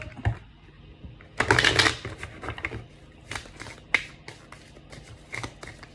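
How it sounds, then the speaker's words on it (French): Playing cards being shuffled and drawn from a deck during a card reading: a loud riffling burst, then lighter flicks and taps, close by with no speech. "Alors, on va piocher une carte."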